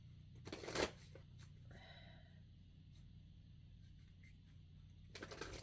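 Moonology oracle cards are shuffled close by, a soft riffling flutter in a quiet room, with brief bursts at the start and end around a gentler middle stretch.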